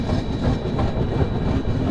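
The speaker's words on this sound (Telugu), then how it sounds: "సో మన ట్రైన్ వచ్చేసి చిలకా నుంచి అయితే బయలుదేరిపోయింది" Visakha Express pulling away from Chilka station, a steady close rumble of wheels and carriages rolling along the rails with faint rhythmic clatter, continuous and fairly loud throughout.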